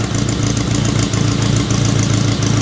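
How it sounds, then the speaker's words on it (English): A 1965 ASA 1000 GT Spider's engine runs loud and steady close by, a continuous low mechanical drone with little change in pitch, so any single rev is not clearly picked out. "Give it one good rev."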